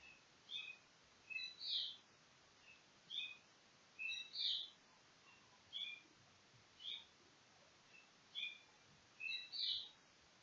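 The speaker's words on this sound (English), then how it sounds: "Happy bird." A small bird chirps in short, high paired calls that repeat at a steady rhythm. The calls are faint and there is no other sound.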